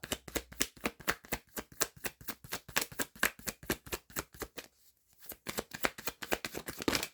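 Tarot cards are pulled and shuffled from a deck in a rapid, even run of close, crisp riffling flicks, with a brief pause before the flicking resumes.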